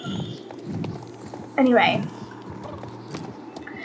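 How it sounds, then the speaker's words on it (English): Galloping horses on a ranger's ranch ride clip-clop in quick rhythm with a brief whinny, while a person talks over them. "We galloped for quite a long time."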